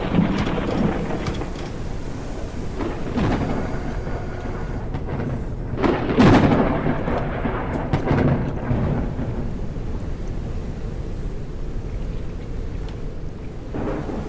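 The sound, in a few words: thunderstorm in video game Forever Skies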